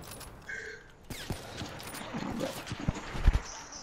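Gunfire in the Black Ops 3 video game, with a sharp shot and several scattered bangs and impacts over busy game noise, with no talking.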